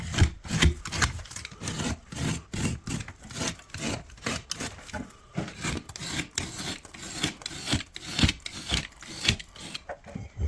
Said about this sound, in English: between coats of plaster, it's good to key it up